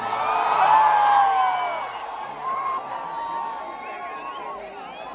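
A large crowd at a college fest party roars and whoops at a distance, with shrill whistles and yells rising over a sustained cheering wash that slowly eases off.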